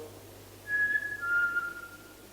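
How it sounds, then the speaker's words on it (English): A short human whistle, two clear sustained notes in a row, heard alone against a quiet room hum. "Can you copy my whistle?"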